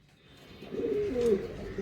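Pigeons coo softly at close range, a single low burbling call that swells and fades against a quiet background.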